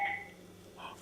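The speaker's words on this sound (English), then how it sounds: "Oh, that's our phone." Telephone in a home sounding a short electronic ring tone, with one tone burst at the start and a second beginning near the end, fairly close and clear.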